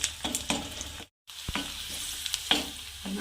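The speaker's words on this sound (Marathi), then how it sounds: "छान मिक्स करायचं छान थोडंसं कलर येऊ द्यायचा कांद्याला" Onions for a tomato kadhi sizzle steadily in a pan while a spoon stirs them, giving soft scrapes and occasional clacks against the metal over a constant frying hiss.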